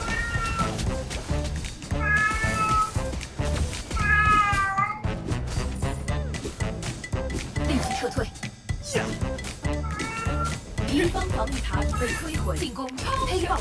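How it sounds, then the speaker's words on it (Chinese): A cat meows repeatedly in the mobile game Marvel Super War, short rising calls recurring every couple of seconds over busy game music, sound effects and character voices. "猫咪在叫啊"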